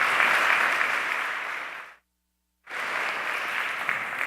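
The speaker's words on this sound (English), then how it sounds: "Round of applause, everyone." An audience applauds to welcome a panel at an investment conference, steady dense clapping that cuts to a brief silence and then resumes just as full.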